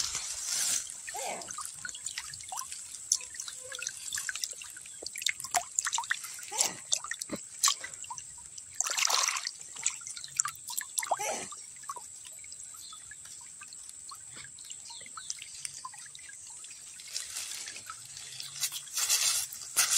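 A small mountain stream (quebrada) in Olancho, Honduras, with water trickling and dripping over rocks in irregular splashes and bursts, fairly close, under a faint steady hiss.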